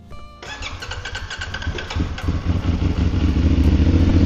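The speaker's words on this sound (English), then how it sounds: "I'm going to start this thing up" Motorcycle engine starts after a brief pause, then settles into a steady, loud idle with clattering mechanical rhythm, close by, ahead of an oil change.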